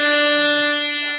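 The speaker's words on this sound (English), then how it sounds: "you just got double air horned." A loud air horn sound effect blares on a comedy show, one sustained, brassy blast of about a second that fades slightly at the end, with no talking over it.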